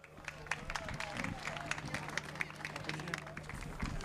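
Faint, distant applause from a crowd at a motorsport prize-giving for a GT group winner, a scattered patter of clapping over outdoor background noise and murmuring voices.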